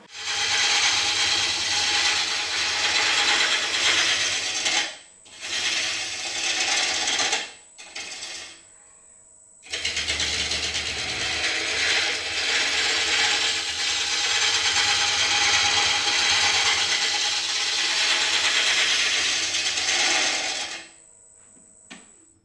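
A wood lathe spins a pink ivory log while a tool shaves the wood, giving loud, continuous rushing scraping in long runs broken by a few brief stops, with no talking.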